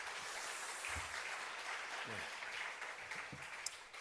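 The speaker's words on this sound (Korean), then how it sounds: "우리 신현옥 전도사님 다시 한번 뜨겁게 박수해 드리겠습니다" A congregation at Yeouido Full Gospel Church gives sustained, dense applause, a steady broadband wash of many hands with faint voices underneath.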